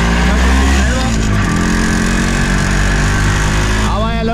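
An MZ ES 250/2 Trophy motorcycle with sidecar runs steadily and loudly up close, with a metallic piston ring rattle clattering on top of the engine note throughout.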